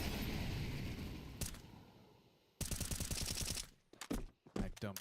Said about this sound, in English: Mag dump through the smoke.